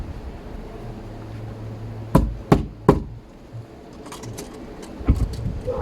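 A nail is tapped into a door to mark the center point for drilling a deadbolt hole: three sharp, close knocks in quick succession, then a softer pair of taps a few seconds later.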